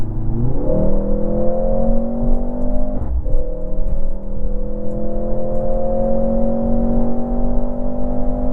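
A 2024 Mercedes GLC43 AMG accelerates hard, its engine note climbing steadily through a gear change near the middle and then rising again, loud and sustained from inside the cabin with no talking.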